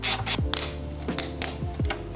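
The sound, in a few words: 5mm hex tool removing motorcycle brake hose holder bolt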